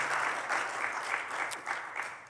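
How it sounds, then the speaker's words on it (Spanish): A church congregation claps together in steady applause, a dense patter of hands filling the room at moderate volume without a break. "Denle un aplauso al Señor"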